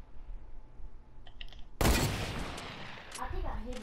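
Gunfire in the video game Fortnite: quiet game sounds, then a sudden loud burst of shots followed by trailing echoes and a faint voice.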